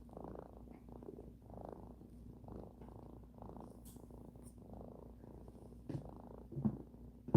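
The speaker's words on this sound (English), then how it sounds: "the purrs. I love the purrs. One of my favorite sounds in the world." A cat purring steadily up close, a soft rhythmic rumble pulsing with each breath, quiet and continuous with a few small rustles near the end.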